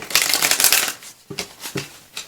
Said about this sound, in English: I already pre-shuffled, but I'll do a quick shuffle here on camera